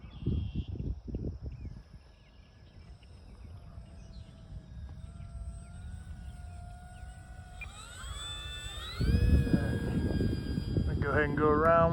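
An E-flite P-47 RC model plane flies in a light crosswind, its motor whining in a thin steady tone that climbs sharply in pitch and grows louder near the end, over rumbling wind noise.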